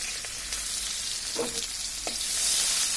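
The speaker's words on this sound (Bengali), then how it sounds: "এখন আমরা ওই তেলের মধ্যে আর তেল দেব না, পেঁয়াজগুলো দিয়ে দিচ্ছি।" Sliced onions hitting hot oil left in a pan after frying fish, giving a steady close sizzle with a few brief stirring clatters, no voices.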